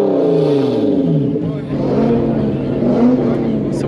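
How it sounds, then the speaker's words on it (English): A Lotus Evora S revs its engine at an outdoor car show meet, with rising and falling throttle blips that sound loud and close, while people talk over it. "We got some Lotus revs going on here."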